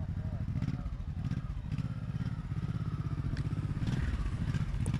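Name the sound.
motorcycle riding in turning exercise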